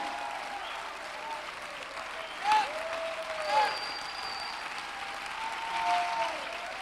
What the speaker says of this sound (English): You better clap your hands and shout.